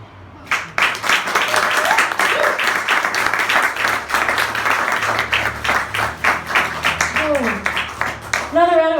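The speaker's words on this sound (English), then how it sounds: "Oh, another round of applause for Heidi," An open-stage audience at a small studio performance claps for a performer, with sharp individual claps ringing out rhythmically, close and fairly loud, alongside scattered whoops and cheering voices near the end.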